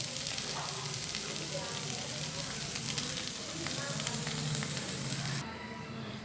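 Masala sautéing in a pan on the stove for an aloo masala roast, a steady dense sizzle and crackle running close and even throughout, ending abruptly near the close.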